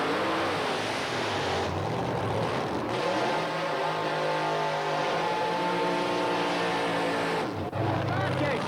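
A 1987 drag race pits a supercharged outlaw Doorslammer against the Obsession funny car, with loud roaring engines thundering continuously, pitch swelling and shifting as the cars pass, and a brief drop near the end before the roar resumes.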